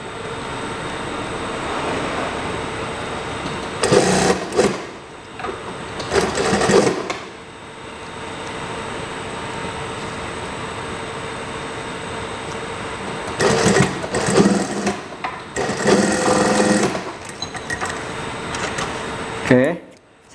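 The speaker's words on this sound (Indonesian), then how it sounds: "Bentar, saya jahit dulu." A sewing machine stitches a trouser waistband in several separate bursts of rapid mechanical whirring, close and loud, with a steady background hum between the runs.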